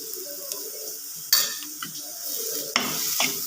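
Masala with fenugreek powder fries for a prawn theeyal under a quiet sizzle, and a spoon gives two sharp scrapes plus lighter stirring strokes against the pan.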